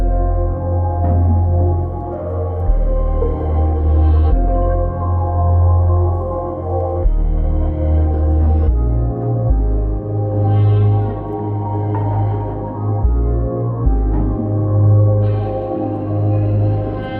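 A full R&B loop with deep bass, warm chords and layered vocal textures repeats in steady bars, loud and continuous with no talking.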